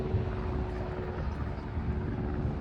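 An airplane flies overhead doing tricks during a fireworks festival evening, a steady broad engine drone that holds fairly even and distant-to-moderate in level throughout, with no talk.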